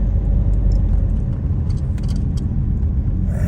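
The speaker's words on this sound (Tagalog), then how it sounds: "Traffic, traffic." A car drives through road traffic in the UK on a dark evening, with a constant loud low engine and tyre rumble and faint jingling up high, no talk over it.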